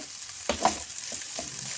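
Carrots and cabbage with capsicum and onion stir-frying in a pan for chicken chowmein, a steady hiss with a couple of louder scraping stirs near the middle and softer ones after.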